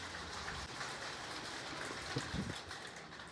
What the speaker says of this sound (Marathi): बाहेर तर खूपच पाऊस पडत आहे